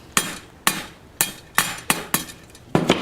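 Seven sharp metallic hammer blows drive a wheel bearing into the front hub of a 1973 Honda CB750, close and loud, struck at a steady pace of roughly one every half second.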